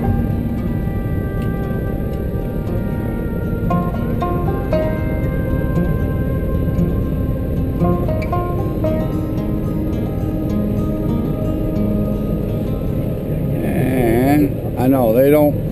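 A Hummer in four-wheel drive grinds uphill on a rough track at Llano River Park, its engine droning loudly and steadily throughout with cabin rattles, and voices talk over it.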